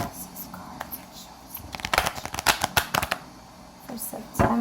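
A deck of cards shuffled for an astrology tarot reading, a run of quick crisp riffling bursts and soft slaps up close in a quiet room, with a few scattered taps before and one more snap at the end.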